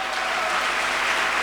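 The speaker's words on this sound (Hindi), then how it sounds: "मैं चाहूँगा सर के लिए जोरदार तालियां हो जाएं।" Loud, steady applause from a crowd at a celebration event, a dense continuous clatter of many hands clapping together throughout the short moment with no voices over it.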